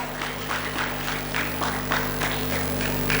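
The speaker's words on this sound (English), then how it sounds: "Please give her a huge round of applause." Soft applause from a school annual day audience for a prize-winning student: a steady patter of many hands clapping, distant and fairly quiet beneath a constant electrical hum, continuing throughout without speech.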